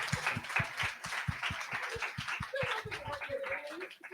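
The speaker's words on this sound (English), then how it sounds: "let's give a big round of applause" A conference audience at an environmental justice and air pollution session gives the speakers a round of applause, with steady, evenly spaced claps at moderate distance, a few voices murmuring underneath.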